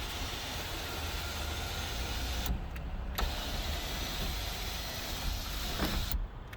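An electric sunroof on a Scion tC runs for several seconds, a steady motor whir with faint clicks as the panel slides and stops, heard close inside the car without speech.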